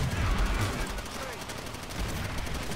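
Dense, steady gunfire crackles through a World at War co-op match, a continuous mix of overlapping shots heard at mid distance under a rumbling game background.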